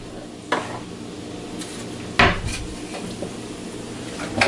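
A pan of fennel and thyme is stirred while cooking, with a low background sizzle broken by a few sharp utensil clinks and scrapes against the pan.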